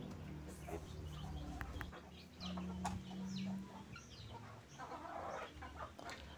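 Free-range chickens cluck on a farm where village chickens are raised, with several birds calling in short irregular bursts at close to moderate distance over steady low background rumble, no one talking.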